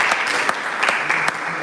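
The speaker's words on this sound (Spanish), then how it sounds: "Desen un aplauso a todos." A group in a theology class applauds together, dense steady clapping from close by that continues through the whole short moment.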